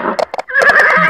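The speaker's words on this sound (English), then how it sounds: "Horse." A horse whinnies loudly and close, with a few short snorting bursts leading into a sustained, wavering neigh.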